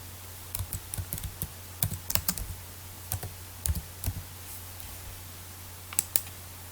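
Fingers tap at a computer keyboard while a name is typed into a nucleotide search on an online sequence database, the keys clicking in short uneven bursts of quick strokes over a steady low hum, with no talk.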